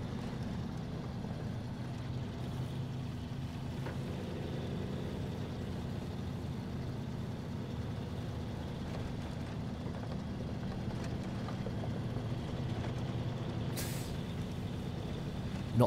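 A steady low engine drone of heavy trucks in the video game SnowRunner rumbles throughout, with a brief hiss like an air brake near the end.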